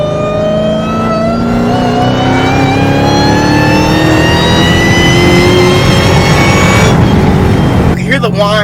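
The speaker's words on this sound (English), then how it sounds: "you can hear the whine a lot, and the exhaust at the same time." A Dodge Charger Hellcat fitted with a new exhaust revs up hard, its supercharger whine climbing steadily in pitch over the deep exhaust rumble, loud and close, before dropping off near the end.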